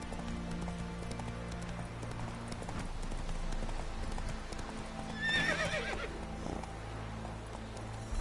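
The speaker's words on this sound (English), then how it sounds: "Let's go! Run, Roach." A video-game horse gallops with a fast, even clatter of hooves throughout, and a clear whinny rises about midway through the run.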